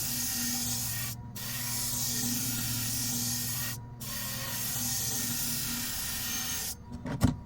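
Grooming thinner shears are drawn back and forth across a 500 grit sharpening stone, making a steady, close abrasive hiss in long strokes broken by brief pauses. A few small clicks come at the end.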